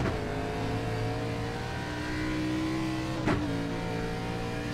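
A NASCAR race car in the iRacing simulation laps Brands Hatch, its engine a sustained loud drone with shifting pitch as it revs through corners and a brief sharp shift partway through.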